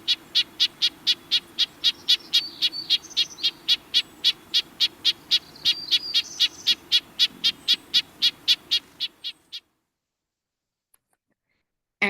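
A bird's agitated, wren-like scolding call plays as a fast, even series of sharp chattering notes, loud and steady for about nine seconds before stopping abruptly into silence.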